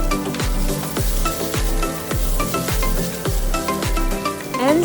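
Dried tofu strips and sliced shiitake mushrooms sizzle in a hot pan for a vegetarian Korean japchae stir-fry, with a steady close hiss broken by regular scraping strokes of the spatula tossing the food.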